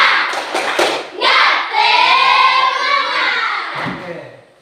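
A school class claps the 'tepuk semangat' rhythm chant, with a quick burst of claps at the start followed by voices chanting together in the classroom.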